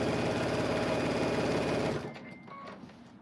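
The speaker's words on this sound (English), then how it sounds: "Oh, I am sewing without thread." Sewing machine running without thread, a loud, steady rapid mechanical whir for about two seconds, then stopping abruptly and leaving faint quiet room sound.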